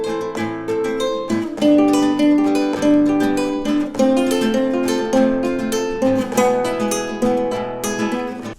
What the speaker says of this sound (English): The fourth tip will be using the same technique, but we will at this time finger pick all the chords.